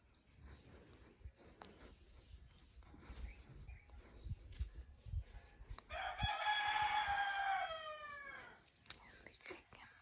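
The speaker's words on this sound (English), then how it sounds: "The chicken." A rooster at a South African home crows once, a clear, drawn-out cock-a-doodle-doo at moderate distance, preceded by faint background murmur and household noise.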